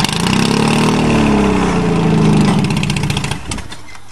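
A Toyota car engine with side pipes and little back pressure, running cold, roars loudly and steadily with rising and falling revs for about three seconds before easing off.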